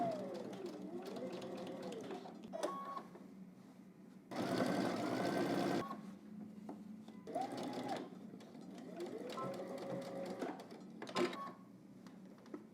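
Sewing machine stitching a seam on a jacket, running in several short bursts with pauses between, a buzzy mechanical whir close by with faint handling noises and no speech.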